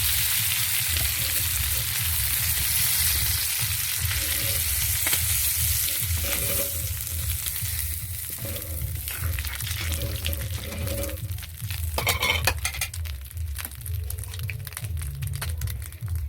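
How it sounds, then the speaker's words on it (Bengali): Prawns fry in hot oil in a pan with a steady, dense sizzle and crackle, joined by intermittent stirring scrapes and a brief burst of louder spattering near the end, with no talking. "চিংড়ি মাছ ভাজলে গেঁজা গেঁজা হয়ে ওঠে"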